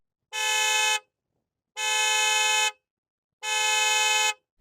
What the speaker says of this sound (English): I want you to honk your horn.